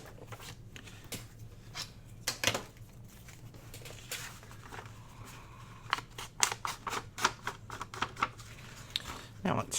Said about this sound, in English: I'm going to trim a little bit of this side off because it's looking a little bit wide